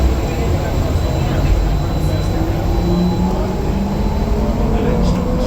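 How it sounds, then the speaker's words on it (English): An airport train departing, with a steady loud rumble and rolling hum of the moving cars filling the whole stretch at close range, no break or quiet gap. "Please hold on. This train is departing."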